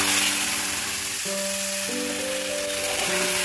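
Ginger and green chili paste sizzles steadily in hot oil, a constant bright hiss with faint tonal hum in the background and no talking.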